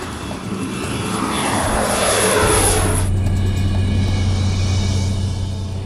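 A small propeller plane flying over remote southwest Ethiopia drones loudly and steadily, its engine pitch dropping as it passes close overhead, with a continuous rumble and no voices.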